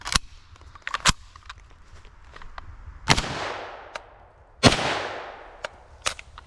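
PTR 9CT MP5 firing supersonic 9mm ammunition unsuppressed outdoors: a few sharp, loud single shots spaced about a second or more apart, each with a long echoing tail, plus fainter clicks and handling noises between them.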